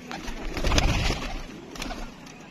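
Pigeons coo on a Gujranwala rooftop where pigeon fanciers keep their birds, soft throaty calls rising and falling close by over faint background noise.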